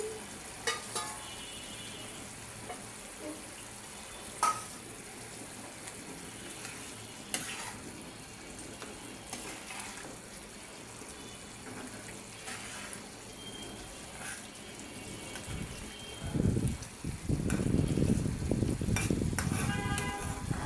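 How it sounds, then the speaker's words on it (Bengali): Eggs frying and stirred in a pan for egg bhuna with coriander leaves, green chillies and onion paste; faint scraping and light sizzling through most of the clip, growing louder and busier with stirring near the end. "ধনিয়া পাতা, কাঁচামরিচ আর পেঁয়াজ বাটা দিয়ে আমি আজকে ডিম ভুনা করলাম।"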